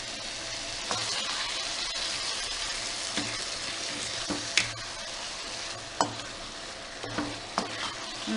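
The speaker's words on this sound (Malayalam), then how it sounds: "നന്നായിട്ട് ഇളക്കി കൊടുക്കാം" Achari chicken sizzles as it fries in a pan while a spoon stirs it, a steady close hiss of frying broken by several sharp scraping knocks of the utensil against the pan, no one talking.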